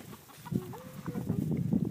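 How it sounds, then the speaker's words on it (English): Chickens cluck in a yard while someone coaxes them toward a cage with feed, with short bursts of clucking and a rising squawk over steady nearby rustling and movement. "She's trying to coax the chickens into the cage and feed them at the same time."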